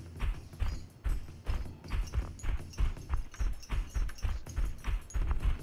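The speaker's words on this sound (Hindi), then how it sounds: "ओए मैं घोड़े को लेके आ रहा हूँ आपके पास" Horse hooves gallop in PUBG Mobile on the Livik map: a steady, rapid run of heavy thudding beats, close and continuous, with no voices over them.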